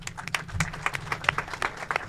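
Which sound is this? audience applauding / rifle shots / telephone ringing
audience applauding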